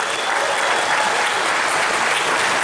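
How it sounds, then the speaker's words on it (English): A convention crowd at an opening ceremony claps in a dense, even round of applause, loud and close for the full few seconds. "Big round of applause."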